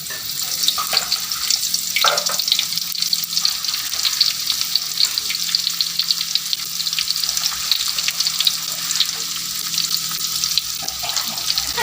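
Shallots and garlic sizzle steadily in hot oil, a dense continuous crackle close by, with faint occasional stirring and no talk.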